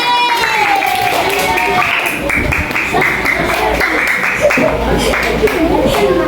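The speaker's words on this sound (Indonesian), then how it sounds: "tepuk tangan buat kelompok gerak" A classroom of students claps for a student group, a dense, steady patter of many hands filling the room, with voices and chatter mixed in throughout.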